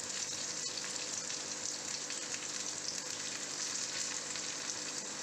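Paniyaram fry in a pan as they are turned, giving a soft, steady sizzle with faint crackle that holds at an even low level throughout.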